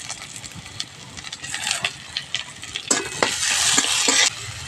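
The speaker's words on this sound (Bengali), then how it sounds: "পেঁয়াজ আর টমেটোটা ভাজতে ভাজতে নরম হয়ে গেছে।" Chopped onion and tomato fry in a pan with a little salt, giving a crackling sizzle punctuated by the scrapes of a stirring spatula. The sizzle grows louder and more steady toward the end, then drops off abruptly.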